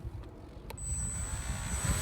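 Retractable electric motor of an Arcus M RC glider spins up: a thin, high steady whine over low rumbling handling noise, close by and fairly faint.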